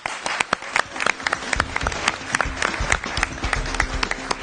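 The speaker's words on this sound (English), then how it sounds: "let's give them a round of applause" An audience at a college quiz bowl semifinal applauds the contestants, steady moderately loud clapping with distinct individual claps standing out over a low rumble.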